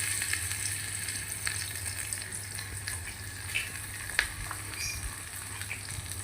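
Onions and green chillies frying in oil in a pan in an Indian village kitchen, giving a steady, moderate crackling sizzle with occasional sharper pops and no talking.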